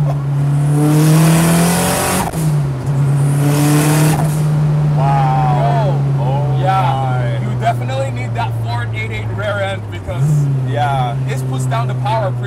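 A turbocharged KA24 engine in a Datsun 510 wagon pulls hard with a loud, droning note that rises through the revs, drops at a shift and climbs again, heard from inside the car with people talking over it.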